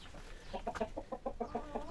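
Hens clucking in a quick, steady series of short calls, close by, with no talk.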